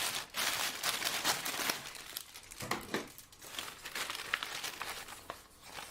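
A plastic bag crinkles and rustles at close range while a display is unboxed, with continuous uneven crackling bursts and no voices.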